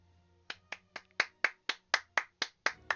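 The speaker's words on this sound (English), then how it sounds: "I clap my hands to you." A single person claps hands about ten times at an even, brisk pace, each clap sharp and distinct, close up and alone in a quiet room.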